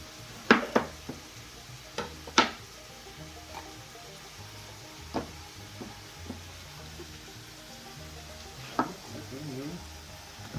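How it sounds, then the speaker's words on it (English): Sausage sizzling in a pan on a home stove, with a handful of sharp utensil clanks and scrapes as it is stirred over a low, steady fry hiss. "We'll give this sausage here a stir."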